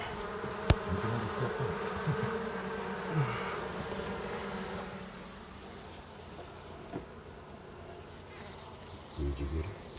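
Honey bees buzz in a continuous droning swarm during a hive removal in an apartment, a dense steady hum with a few knocks and clicks, fading somewhat partway through.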